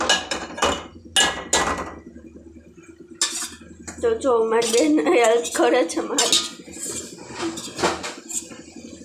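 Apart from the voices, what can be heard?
spoon stirring pasta in a pot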